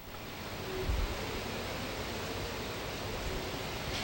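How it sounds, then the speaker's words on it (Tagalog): Strong wind and heavy rain of Typhoon Lando in Baguio, a dense, constant roar of rushing wind and rainfall with low buffeting gusts, filling the scene evenly with no voices. "Yes, Jessica, malakas yung hangin, malakas yung ulan at malamig."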